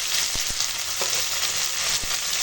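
Onions frying in mustard oil with cinnamon, cardamom, cloves and bay leaf give off a dense, steady sizzle up close, with a few soft knocks of stirring and no speech.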